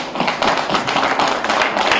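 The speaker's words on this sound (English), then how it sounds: "Let's give them a round of applause." An audience applauds police officers, close, crisp clapping from a modest crowd with individual hand claps audible in a steady patter.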